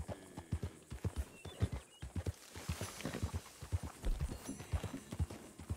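Horse hooves clip-clop in a steady walking rhythm in the online mode of the video game Red Dead Redemption 2, close and fairly loud, with no talking.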